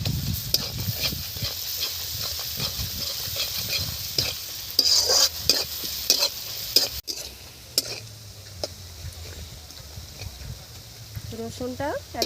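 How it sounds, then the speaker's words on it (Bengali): Garlic stirred and fried in oil after softened onions gives a close, steady sizzle with frequent scraping stir strokes. A voice is faintly heard at moments. "রসুনটা 1 মিনিট নেড়ে নিয়েছি"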